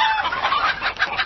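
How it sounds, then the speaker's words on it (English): Chickens cluck in a cluster of overlapping, fairly close calls across a little over a second, with short chattering bursts and no talk. "Add in a few chicken coops"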